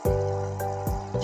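Water from a small pump in a mini goldfish aquarium, a few quick bubbly gurgling splashes in a burbling rhythm, close and clear with no talk.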